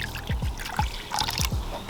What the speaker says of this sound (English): I'm going to fill up this little water pool